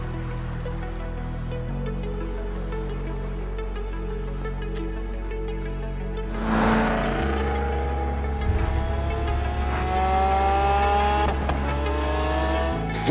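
Cars driving in Forza Horizon 3, engines droning at a steady low pitch before one revs up hard, the gears climbing in rising sweeps with a brief tire scrub, loud and close, with background music and no talking.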